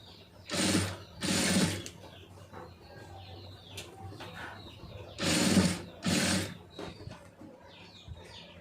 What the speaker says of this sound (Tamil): கொஞ்சம் பொறுமையாக அடிக்கணும் பைப்பிங் மாத்திரம்